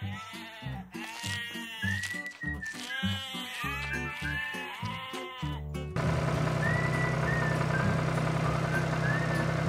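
Sheep on a farm bleat excitedly and repeatedly at close range, several voices overlapping, over a steady background of noise.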